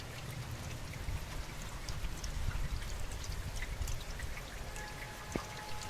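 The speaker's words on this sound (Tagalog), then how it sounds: "Sobrang maganda at pakinggan ang patak ng ulan." Steady rain falling outdoors at a house garden in Germany, a dense soft hiss of raindrops with low rumbling patter underneath, fairly quiet and unbroken, with one faint sharp tap near the end.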